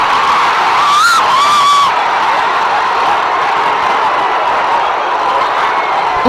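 A large crowd of Madagascar rugby supporters shouts and cheers in a loud, continuous roar, with a few high whoops rising above it early on before it settles into a steady din.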